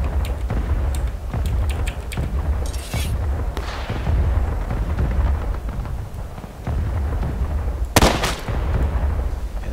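Gunfire from the video game War of Rights, a handful of loud sharp reports spread through a busy skirmish, with one especially strong blast near the end.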